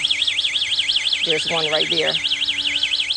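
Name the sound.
electronic animal repellent alarm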